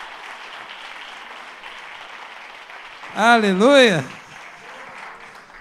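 Sunday worship congregation applauding throughout, a steady wash of clapping under which one voice briefly rings out in a loud, drawn-out call.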